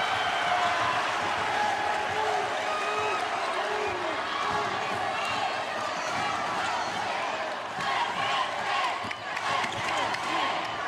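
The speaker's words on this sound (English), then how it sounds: "Let's go State, the chant from the crowd" A women's college basketball crowd at South Carolina versus Mississippi State chants "Let's go State" as a dense, rolling roar of many voices, with a commentator talking over it throughout.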